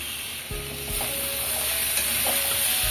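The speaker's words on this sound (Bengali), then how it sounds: "মটরশুঁটিগুলো দিয়ে দিলাম।" Green peas are stirred and fried in spice masala in a pan. A close, steady sizzle runs throughout, broken by a few scraping stirs and light clinks from the spoon.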